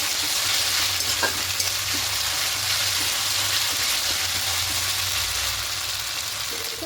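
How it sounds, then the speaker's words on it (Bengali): Ginger and green chili paste sautéing steadily in a hot pan, a close, continuous sizzle with occasional stirring scrapes and no talking. "এবার এখানে দেব আদা আর লঙ্কা পেস্ট এখানে রসুন দিচ্ছি না আদা লঙ্কা পেস্ট দিলাম দিয়ে খুব ভালো করে একটু কষিয়ে নেবো"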